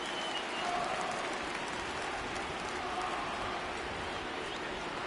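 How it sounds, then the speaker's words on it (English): Heavy rain pours steadily over a baseball field in MLB The Show 19, a dense, even hiss of falling water that holds at the same faint level throughout, with no clear voices over it. "Really starting to pour now, and the forecast is not showing any signs of a break in the weather."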